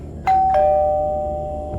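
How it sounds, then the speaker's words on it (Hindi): An electronic doorbell rings two clear tones in quick succession, the second note lingering and slowly fading, loud and close. "फिर एक दिन अचानक मेरे घर की डोरबेल बजी"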